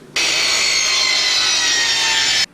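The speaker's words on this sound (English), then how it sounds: "I'm going to be cutting it in a 45 down and taking that chunk off" A hand saw cuts a 45-degree angle off the edge of a wooden board for a skateboard wall rack, making one loud, continuous rasping stroke that runs for about two seconds with nothing else heard.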